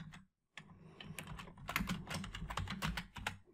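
Rapid, uneven clicking of fingers typing on a computer keyboard, close and fairly quiet, in a burst of keystrokes after a brief pause, with no talking.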